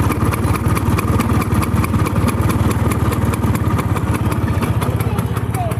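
A Bajaj scooter engine, about 4,289 km on it, idles close by with a steady, rapid putter, loud and even throughout.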